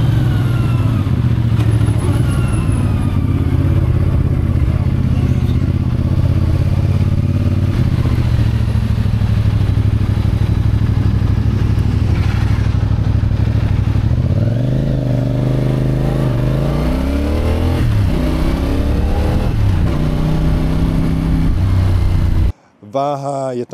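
The 450 motorcycle engine, on a bike of about 180 kg, idles with a loud, close, steady thrum, then revs up and down in rising and falling sweeps before cutting off abruptly near the end.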